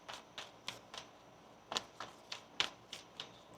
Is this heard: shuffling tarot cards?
yes